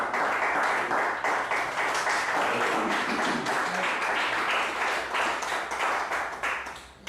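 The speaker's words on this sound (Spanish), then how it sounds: "Gloria al Señor, hermanos, por esos aplausos" A church congregation applauding, a dense, continuous wash of many hands clapping that fills the room loudly and evenly before easing off slightly near the end.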